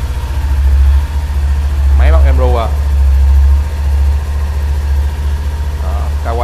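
A Kawasaki Ninja 400 motorcycle idling close by with a steady, loud low rumble that swells slightly at times, while someone talks over it.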